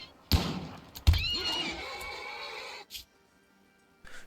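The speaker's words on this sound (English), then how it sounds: "a mad horse broke into my house" A mad horse in the video game Rimworld lets out two loud, close whinnies with wavering shrill tones, followed by a short pause and a faint fragment at the end.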